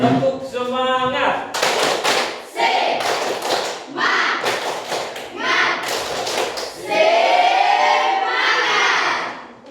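A group performing a rhythmic cheer clap, repeated bursts of loud unison claps mixed with shouted chanting from many voices, close and lively throughout.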